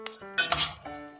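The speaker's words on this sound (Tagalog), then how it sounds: "haluin lang natin ng haluin para yung ma-absorb ng spaghetti yung ating sauce" Metal utensil clinks and scrapes against a pan as spaghetti with shrimp and zucchini is stirred in sauce, a few sharp ringing taps and scraping stirs close by.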